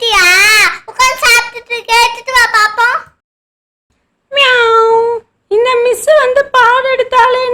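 A voice imitates a cat in a Tamil classroom comedy skit, giving several drawn-out, wavering meows in two bursts separated by a short silence, loud and close.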